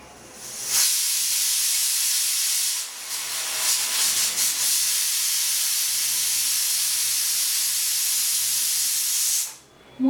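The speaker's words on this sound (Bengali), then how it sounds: "মূলোটা দিয়ে একটা সিটি আর একটু দিয়ে নেব" A pressure cooker on the stove, cooking kolai dal with radish, releases steam in a loud, steady hiss that runs for several seconds before cutting off abruptly.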